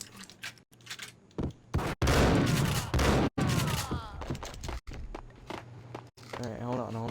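Video game gunfire in bursts of rapid shots, loud and close, overlapping ongoing talk from players, with louder stretches of firing in the middle.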